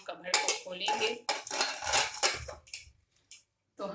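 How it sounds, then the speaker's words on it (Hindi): A pressure cooker lid is opened after boiling elephant foot yam, giving a series of close metallic clanks, scrapes and rattles of metal cookware that stop briefly near the end. "अब हम कवर को खोलेंगे।"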